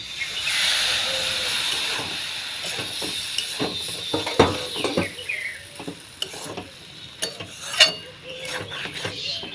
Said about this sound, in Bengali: অল্প করে জল দিলাম আর খুন্তি দিয়ে এইভাবে আমি নাড়তে থাকবো